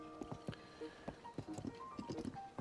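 Horse hooves clip-clopping as a ridden horse moves in the video game Tears of the Kingdom, a quick uneven series of close hoof thuds with faint chiming game tones between them.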